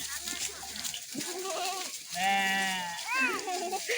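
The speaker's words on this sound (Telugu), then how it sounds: "వైభవ్, ఇదిగో గొర్రె" Sheep and goats bleat close by in several drawn-out, wavering calls, with people talking in between.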